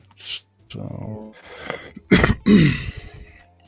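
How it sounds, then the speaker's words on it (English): A single sharp cough with a harsh throat-clearing burst right after it, close and loud, from a man hosting a late-night talk show, with brief muffled sounds before it and quiet around it. "sorry for the cough, ladies and gentlemen"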